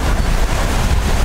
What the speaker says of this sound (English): the wind is blowing in our favor